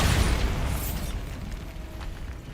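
A Bombarda explosion spell goes off in a video game: a loud, broad blast right at the start that rumbles on and slowly fades over a couple of seconds.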